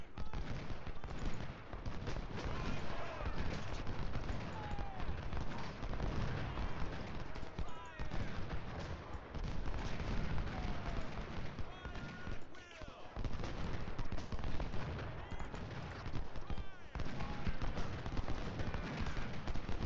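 Dense, continuous battlefield gunfire mixed with booming artillery in the Civil War strategy game Ultimate General: Civil War at Chancellorsville, a faint, crackling roar of musket volleys heard throughout under a speaking voice.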